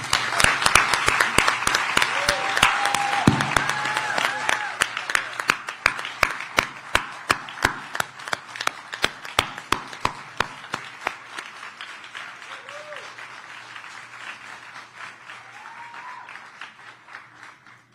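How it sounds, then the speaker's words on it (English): Audience applause at a news conference at a festival in New Orleans, honoring the Dennis family: a loud burst of clapping that thins into slower, more distinct claps and fades out, with scattered voices early on. "thank them with what we communally accept as applause for the Dennis family"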